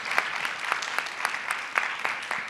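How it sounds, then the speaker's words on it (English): An audience at a justice and gender panel discussion applauds its panelists: fairly quiet, even clapping with distinct individual claps standing out, a bit distant. "So please give a big round of applause to our panelists"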